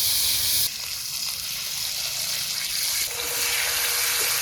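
Steady broadband sizzling of spices with salt and turmeric frying in a pan, a loud crackle that drops briefly then swells again, with no talking.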